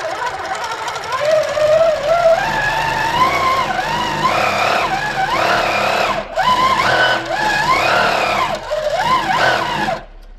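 An Amara longarm quilting machine running on cruise mode, stitching fine stitches: a steady mechanical whir that rises and falls in pitch as its speed changes, continuous and close, then cutting off abruptly near the end, with no talking.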